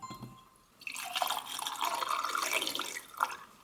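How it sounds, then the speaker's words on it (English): Photographic developer for black-and-white slide film being poured from a tank back into a jar, a steady splashing liquid stream lasting a few seconds at close range, preceded by faint handling sounds. "now I'm gonna dump the developer back into the jar for the later use"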